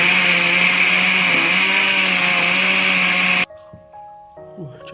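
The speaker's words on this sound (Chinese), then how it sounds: "放到榨汁机里面，" A juicer blending cut dried fruit pieces with a cup of water runs as a loud, steady motor whine for several seconds, then cuts off abruptly, leaving faint clinks and handling noises.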